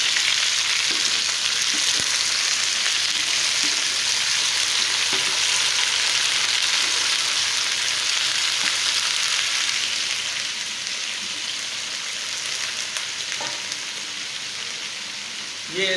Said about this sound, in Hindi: ये आलू डाल रहे हैं।